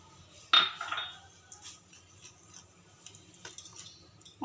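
A spoon scrapes and clinks against a bowl while stirring an eggless cake batter paste mixed with baking soda and vinegar, with a sharp clink near the start followed by faint, irregular scraping and light taps.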